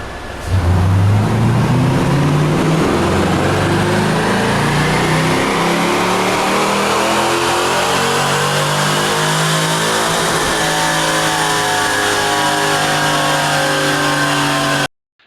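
A Corvette Z06 engine on a dyno run at a leaner fuel mixture, revving loudly and steadily climbing in pitch for about fourteen seconds at full load before cutting off abruptly.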